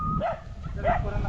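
Two dogs being fed give a pair of short, rising yips or whimpers, close by and moderately loud, with people talking in the background.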